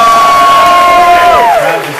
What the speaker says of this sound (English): The crowd just loves the Big A.